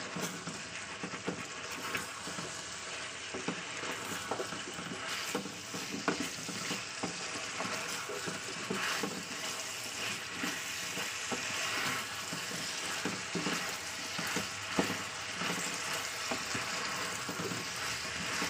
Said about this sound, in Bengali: চলুন পেঁয়াজটা দিয়ে একটু কষিয়ে নিই তেলের উপরে।